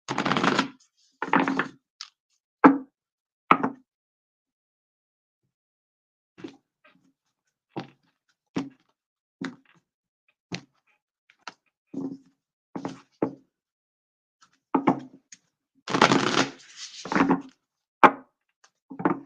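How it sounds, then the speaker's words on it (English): Tarot cards being shuffled by hand in bursts of crisp riffling and soft slaps, with irregular short snaps and taps between longer ruffling runs, close and fairly quiet with no talking. "Just going to do a quick shuffle here for you guys."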